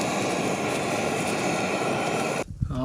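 A Jetboil camping stove burner roars steadily and loudly close up as it runs outdoors on a windy hiking trip in Wales. It then cuts off abruptly near the end, leaving quieter faint sounds.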